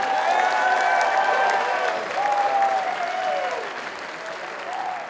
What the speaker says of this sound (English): And one more even louder round of applause for that man there in the yellow and black.